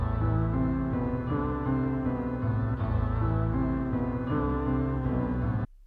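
A dark trap melody, rendered at double tempo and then time-stretched back to its original length, plays as a loud, dense, continuous layer of sustained tones for nearly six seconds before stopping abruptly.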